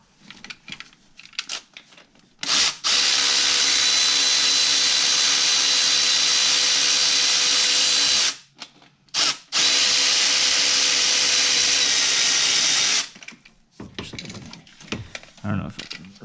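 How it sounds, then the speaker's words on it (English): Power ratchet whirring in long loud bursts as it spins bolts off a 2000 Subaru Impreza RS during a six-speed transmission swap, with brief pauses between runs and a voice talking near the end. "Switch over to my ratchet, power ratchet. This will take them off faster."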